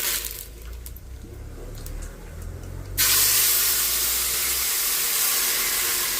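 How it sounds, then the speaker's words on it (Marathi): Onion puree with ginger-garlic paste, bay leaf and star anise hits hot oil for a Kolhapuri chicken sukka tempering. A low, quiet stretch gives way to a sudden loud, sustained sizzling hiss. "कांद्याची फोडणी मस्त अशी दिलेली आहे"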